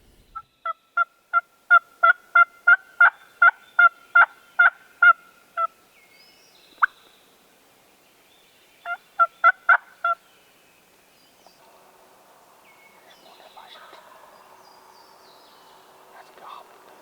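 A wild turkey in a swamp gobbles as a fast rattling burst of about a dozen clipped notes, then a shorter answering burst, followed by quiet distant rustling.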